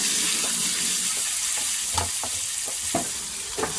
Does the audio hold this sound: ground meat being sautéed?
yes